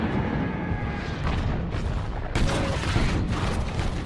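Naval cannon bombardment in a war film, a dense, continuous roar of rumbling explosions with a sharper burst midway and heavy, sustained low-end impact throughout.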